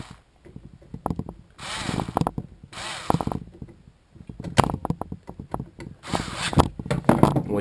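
Screws on the TPS of a Jaguar XK8, XJ8 or XJR throttle body are tightened with a hand tool, giving repeated bursts of close metallic ratcheting clicks separated by short pauses.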